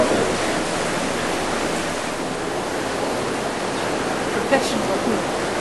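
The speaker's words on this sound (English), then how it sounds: "I'm going to engage low electric charge by turning on the water wheel" Water wheel running at Slater Mill, a broad steady rush of churning water like surf, constant and fairly loud throughout, with a brief knock near the end.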